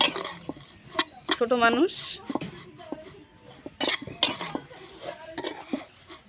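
A metal spoon stirs semai vermicelli in a cooking pot, giving intermittent clinks and scrapes against the metal at close range, with a voice speaking briefly.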